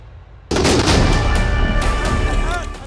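Sudden loud blast opens a burst of heavy explosion and gunfire noise from drone and rocket strikes on a military barracks in Syria, sustained rumbling impacts that slowly fade.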